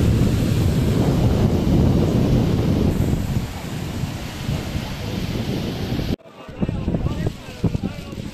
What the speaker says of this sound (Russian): Но дует прохладный ветер при этом.